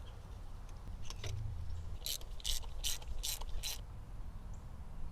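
Ratcheting wrench tightening glow plugs on a 2002 VW diesel engine, a few quick bursts of clicking over a steady low background hum, close up with no talk.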